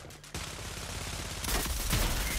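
Rapid, continuous gunfire in a 3v3 multiplayer shooter video game, loud and dense, intensifying partway through, with no voices over it.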